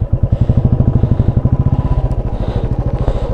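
An overloaded motorcycle stuck on the Chang La mountain pass, its engine chugging loudly and close in a fast, rough, uneven pulse as it strains under the weight, with no talking.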